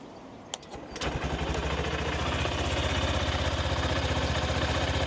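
A Honda CB125F motorcycle engine cranks with a couple of sharp clicks, catches after about a second and settles into a steady, loud, even idle close by for the rest of the clip.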